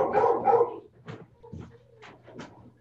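Dogs bark and whimper indoors in a few short bursts, the first loudest, then quieter yelps and barks spread across the moment.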